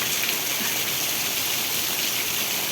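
Heavy night-time rain pours down in a village in Ranpur taluka, Botad district, during a lightning storm, a loud unbroken hiss of dense rainfall with no voices.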